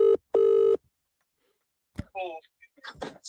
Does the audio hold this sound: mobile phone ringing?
yes